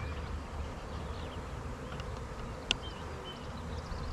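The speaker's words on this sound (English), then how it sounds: "But there's bees definitely checking out the box." Faint buzzing of honeybees from a swarm drifting about a box outdoors, soft and steady against a hushy background, with one brief sharp click partway through.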